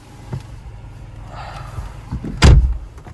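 A car door on a Mercedes CLA shuts with one loud, close, heavy thud, preceded by softer handling sounds and a faint rustle.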